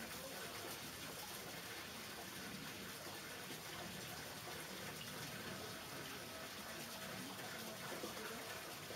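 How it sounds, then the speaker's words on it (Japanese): Steady rushing of rainwater flowing at a Shinto shrine during rain, a continuous broadband wash of noise with no breaks, heard alone at a moderate, even level. "有啲聲，有啲流水聲"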